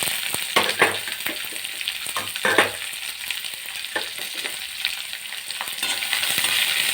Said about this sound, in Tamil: வெங்காயம் போட்டு நல்லா வதக்கிக்கோங்க